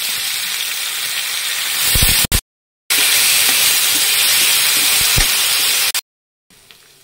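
Moong dal frying with dried red chilli in a pan makes a loud, steady, close sizzle and hiss, broken twice by abrupt cuts to silence and then returning fainter.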